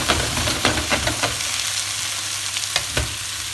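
Chard sizzles loudly in a hot pan as half a glass of water goes in, a dense steady frying hiss broken by several sharp spattering bursts and stirring scrapes.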